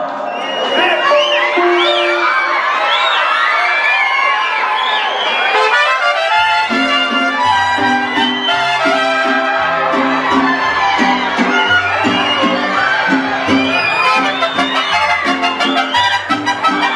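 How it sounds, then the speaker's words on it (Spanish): A concert crowd cheers and whoops loudly and continuously at a live show, with music entering partway through beneath the sustained shouting of the audience. "Muchachos, esta canción, con sus aplausos me van a decir si les gusta o no"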